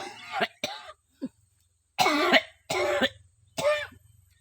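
Several harsh, close coughs from an elderly man after chanting, in short bursts, a few faint quick ones first, then three louder throaty coughs spaced evenly apart.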